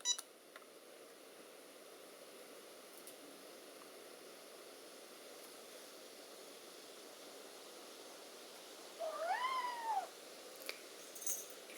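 A pet cat named Charlie meows and cries once in the background of a quiet room, a short, rising-and-falling wail that stands out briefly against a low steady hum.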